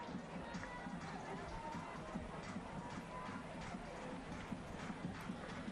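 Stadium crowd at Ballymore awaiting a Brisbane Roar versus Western United A-League football match: a dense, steady distant roar and murmur of many spectators filling the whole stretch.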